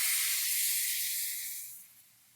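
Squeezed tamarind juice hits a hot pan for pickle, raising a loud steamy hiss that holds steady, then fades over about two seconds.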